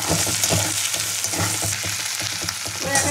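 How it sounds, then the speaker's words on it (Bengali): Chopped tomato with salt frying in a pan, a steady close sizzle with soft stirring scrapes running throughout, loud and continuous with no talk. "টমেটোটা ভাজা হতে দিয়ে পরিমাণ মতো নুন দিয়ে দেবো"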